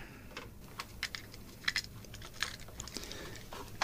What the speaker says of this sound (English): This is the keyboard.